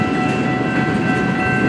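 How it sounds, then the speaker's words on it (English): A long CN M301 westbound freight train passes close by in Port Huron, Michigan, with a loud, steady rumble of rolling cars and a constant roar throughout. "I see an M301 westbound train, I knew it."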